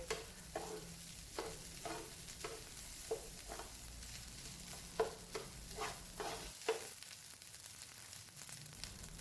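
Fried rice with egg sizzles in a pan over the highest heat, steady frying hiss punctuated by about a dozen evenly spaced scraping stirs of the spatula, close and fairly quiet before the sizzle drops away near the end.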